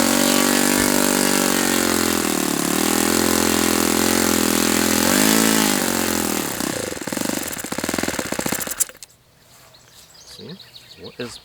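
A Saito FA-91S four-stroke model engine with a suspected fuel delivery fault runs loud and close with a rough, wavering buzz whose pitch sags and surges, then falters and cuts out, leaving quiet background noise.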